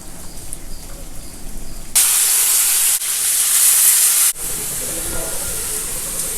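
Loud, steady sizzling hiss of mustard seeds crackling in hot oil while cooking ridge gourd dishes, surging in bursts with brief breaks, no talking over it.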